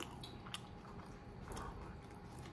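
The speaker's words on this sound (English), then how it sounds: "This is a lot of chewing." Close, soft chewing of a dry crunchy rice cake, a continuous moist crunch and munch heard at low level with no talk.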